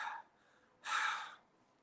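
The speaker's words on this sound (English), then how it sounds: "if I just breathe out" A person breathes out audibly, a soft breathy exhale following a quieter earlier breath, close to the listener and alone without any voice.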